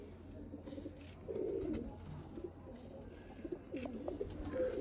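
Sialkoti breeder pigeons, a crossbred teddy and black-faced pair in a loft, cooing in low repeated murmurs, a louder burst partway through, over a steady background hum.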